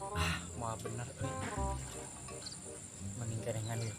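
A cricket chirps in rapid repeated trills, fairly close and steady, mixed with a faint high electric hum and brief background noise.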